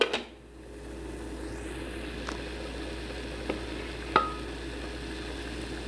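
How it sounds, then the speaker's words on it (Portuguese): Old beans boil in a pot of water with a steady, soft bubbling hiss throughout, broken by a few faint clicks and knocks. "o feijão vai fervendo"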